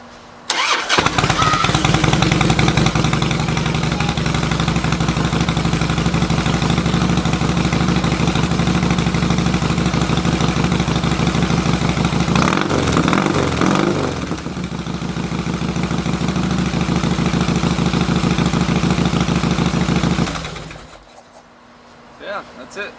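A newly finished custom motorcycle build starts up, its engine catching loudly and settling into a steady, close, rumbling idle for about twenty seconds before cutting off.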